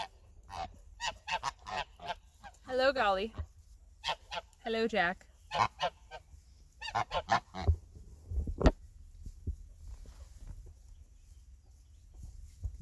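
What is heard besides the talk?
geese honking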